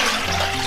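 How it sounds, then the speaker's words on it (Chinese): Clean water pours into a wok in a brief, loud, continuous gush, heard close and alone. "锅头加清水，"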